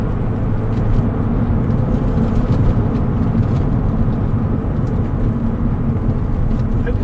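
A Porsche 911 996.2 with Tiptronic automatic gearbox, sunroof and Dansk exhaust, heard from inside while driving: a continuous loud, dense engine and road roar with no break or change in level.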